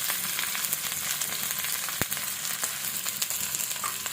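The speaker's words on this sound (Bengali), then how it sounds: "প্রথমে দিয়ে দিচ্ছি পেঁয়াজ কুচি, আর একটু রসুন কুচি একসাথে দিয়ে দিচ্ছি" Chopped onion and garlic frying together in a little oil, a steady close sizzle with faint stirring clicks and one sharp tap partway through.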